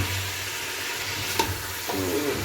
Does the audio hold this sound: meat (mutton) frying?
yes